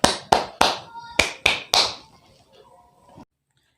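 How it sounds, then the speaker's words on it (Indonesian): Children clap their hands along with a hand-clapping action song in a school lesson: six crisp, loud claps in a steady beat, each ringing briefly in the room, followed by a fading musical tone. "ayo tepuk tangan"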